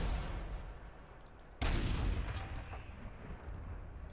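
Tank cannon fire in the World of Tanks video game: a single sharp boom bursts out partway through and rings off over a rumbling engine background.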